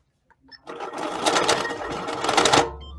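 A longarm quilting sewing machine stitches in a fast, rapid mechanical chatter of about two seconds, loud and close, starting after a few faint clicks and stopping abruptly, with no talking.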